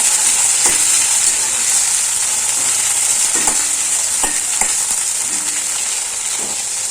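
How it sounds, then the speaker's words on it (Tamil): Eggplant pieces fry loudly in hot oil for an eggplant gravy, a constant bright sizzle with occasional stirring taps and scrapes of a spatula, close up and without speech. "கலர் கொஞ்சம் சேஞ்ச் ஆகிற வரைக்கும் நல்லா வறுபடட்டும் எண்ணெயிலேயே."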